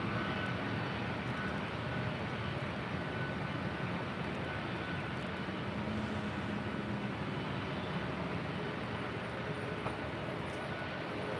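An airliner takes off at LAX on a long roll down the runway, its engines a steady, broad roar that stays level throughout with no voices.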